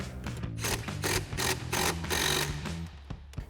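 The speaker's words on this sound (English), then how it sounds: "Now we'll tighten down the rest of our clamps, again with our 8mm socket." A ratchet with an 8mm socket tightening intake hose clamps on a Ford F-150 EcoBoost cold air intake, giving a run of quick, evenly repeated clicking strokes, close and fairly loud, over a few seconds.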